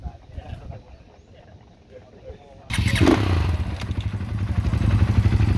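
Suzuki DRZ dirt bikes pull away at the start of an orienteering ride in the Australian bush, a quiet talky stretch giving way to a sudden loud burst of revving engines that rumble on close by, with voices heard over them.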